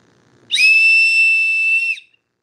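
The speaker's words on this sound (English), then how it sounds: "Okay, so we got a rape whistle." Safety whistle blown once up close, a single loud, shrill, steady blast lasting about a second and a half.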